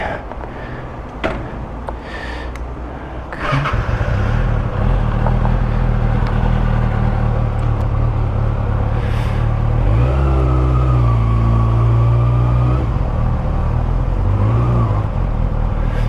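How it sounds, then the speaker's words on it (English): A Kawasaki ZX-6R 636 sport motorcycle, a 2014 Supersport model, ridden on a road test, its engine droning steadily after a few faint knocks, then swelling into a louder rev around the middle before settling back to a constant hum. "that's a test ride of a ZX-6R 636"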